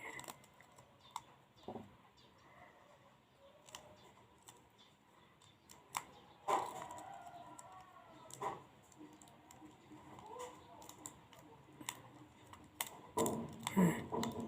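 Paper being folded along its creases for an origami crane makes soft crinkles and occasional crisp snaps, close but quiet, scattered unevenly over a near-silent background.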